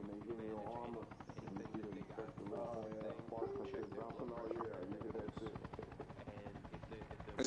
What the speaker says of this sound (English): Owl, are you making these helicopters fly?